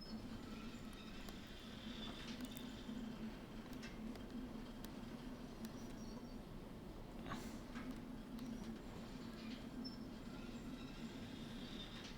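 A freight train rolling along in the Derail Valley VR train simulator, a continuous low rumble of wheels on rails with faint squeals and clicks, heard steadily and quietly throughout with no talk.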